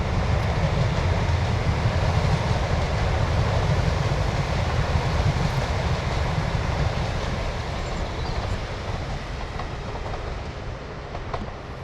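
A train passes at Castlerock with a loud, continuous rumbling roar and a faint clatter of wheels on the rails. It fades slowly over the stretch, and no one speaks.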